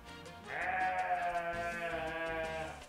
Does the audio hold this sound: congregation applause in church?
no